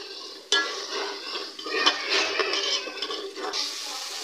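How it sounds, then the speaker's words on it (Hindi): Yogurt, two tablespoons of it, being stirred and fried into a spiced masala for chicken tikka karahi, with a spoon scraping and clinking against the pan in steady bursts over a soft sizzle. "ये मेरे पास 2 टेबलस्पून दही है, ये इसके अंदर डाल देते हैं और इसको भी भून लेते हैं।"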